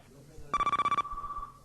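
A telephone rings on a radio phone-in talk show, one short burst of rapid electronic trilling that stops abruptly and leaves a steady tone, set against a quiet studio background.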